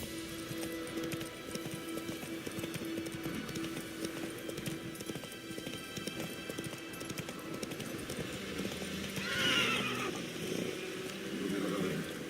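Roach, Geralt's horse in The Witcher 3 video game, clip-clops steadily along with continuous hoofbeats under game music and ambience, with a brief whinny-like burst near the end.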